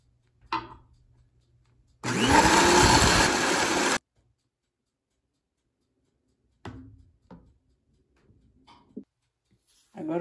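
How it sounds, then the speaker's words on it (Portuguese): An electric mixer whips three egg whites in one loud, steady two-second burst, with sugar soon to go in for a fluffy cornmeal cake. Brief kitchen clatter and handling sounds follow. "Vou bater aqui um pouquinho com a batedeira."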